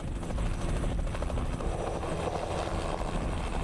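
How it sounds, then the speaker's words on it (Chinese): Helicopter working near tall power transmission towers during high-altitude spray washing of insulators, a steady dense rotor and engine roar that stays loud and constant throughout, with no voices. "急件需仰赖直升机出动，高空喷洒清洗。"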